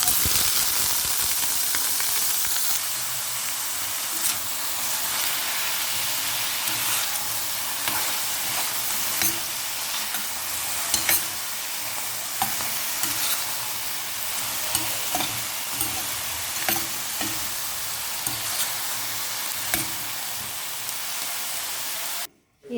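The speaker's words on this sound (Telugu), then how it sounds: "సేమ్ అదే ప్యాన్లో కొంచెం ఆయిల్ అయితే వేసుకొని మనం కట్ చేసిన వంకాయ ముక్కలను అయితే వేసుకొని" Brinjal pieces fry in oil in a pan, giving a steady, loud, close sizzle and crackle that runs unbroken for over twenty seconds with no talking.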